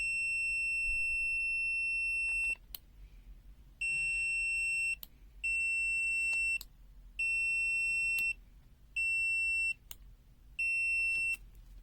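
A BSIDE A5 digital multimeter in auto-mode continuity testing gives six evenly spaced, sustained high-pitched beeps, each lasting about a second, sounding clear and close against a quiet background.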